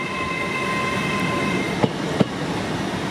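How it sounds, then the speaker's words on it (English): A Class 800 LNER Azuma train rolls through Peterborough station, a steady near rumble with a high whine and two sharp clicks of wheels over rail joints. "Class 800 LNER service to I think Leeds or Edinburgh"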